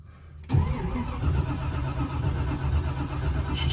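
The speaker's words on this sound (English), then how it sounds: "She's cranking." A car engine cranks and starts after its battery was relocated, a sudden loud catch followed by a steady, close rumbling idle that lasts to the end.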